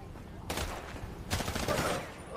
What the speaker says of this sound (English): Cops are shooting us.